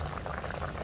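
A pot of snails boils while steaming, giving a close, continuous bubbling and gurgling that stays steady for the brief moment, with no voices.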